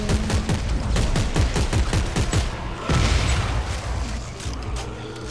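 Weapon fire in the game Dead Space 3: a fast, loud string of heavy blasts with booming tails, close and steady at first, then thinning into a few scattered shots.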